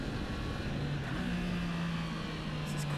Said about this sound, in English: The 6th gear, pull it on, the power comes and the bike starts to rapidly